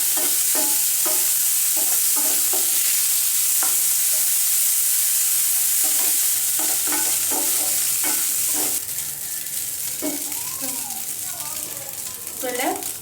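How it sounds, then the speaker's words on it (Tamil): Flaked fish for podimas fries in a pan and is stirred, with a steady sizzle and repeated scraping strokes of a spoon against the pan, then a quieter hiss of frying. "இப்போ உதுத்து வச்சிருக்கிற மீனை உள்ள சேர்த்துடலாம். நல்லா வச்சு ஒரு தடவை மிக்ஸ் பண்ணிவிடுங்க."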